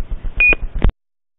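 A kitchen-style timer beeps a few times in quick succession, loud and close, then cuts off into silence.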